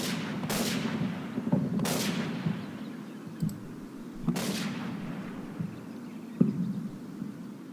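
Gunfire in the Combat Mission war game during street fighting, a few sharp rifle shots spaced seconds apart over a low rumbling battle background, fairly distant.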